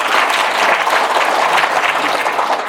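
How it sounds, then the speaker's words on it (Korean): Warm, continuous clapping from a congregation at a Korean Buddhist dharma service, a brief burst of many hands close and loud with no voices over it. "일부 진행과 이번 행사 기획을 하신 양계화 보살님께 감사의 박수 부탁드립니다."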